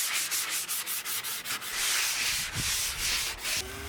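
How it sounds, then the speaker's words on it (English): Rapid, scratchy rubbing of a sanding sponge on wooden sideboard doors, in repeated back-and-forth strokes, close and steady with no talking. "I quickly sand down the doors with a sanding sponge"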